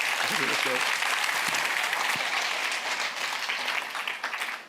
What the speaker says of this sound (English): please give once more a warm applause to Lisette Mepschen